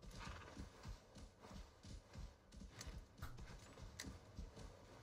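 Horse hooves clip-clopping in Assassin's Creed Valhalla, a steady rhythmic trot of close, moderately loud hoofbeats with an occasional whinny-like call over ambient game background.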